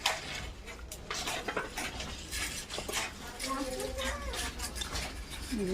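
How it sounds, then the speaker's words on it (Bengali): A spoon stirs banana flower curry with mung dal in a pan, scraping and clinking close by under a continuous soft sizzle, while someone talks over it. "ঢাকনাটা খুলে দেখে নেব নাড়াচাড়া করে নেবো উপর থেকে একটু ঘি দিয়ে দেবো"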